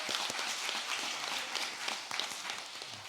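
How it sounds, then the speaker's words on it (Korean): A small church gathering claps briefly during a sermon for a member who answered a quiz, scattered hand claps that thin toward the end. "박수 한번 하겠습니다"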